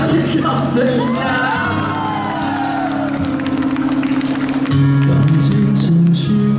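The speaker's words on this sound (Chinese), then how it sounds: "掌声掌声一下。" A concert crowd at a tattoo art exhibition hall in Kaohsiung cheers, whoops and claps loudly, a dense roar with scattered shouts while music plays underneath.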